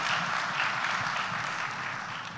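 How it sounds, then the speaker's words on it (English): A large summit audience keeps up a dense, even wash of applause for a speaker, a steady roar of clapping at moderate level that holds for a couple of seconds. "I think one more round of applause for Mr. Narana Murthy."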